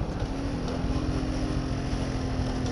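A struggling motor engine, apparently a boat motor, drones steadily and loudly with a low rumbling hum that labors throughout, with no speech.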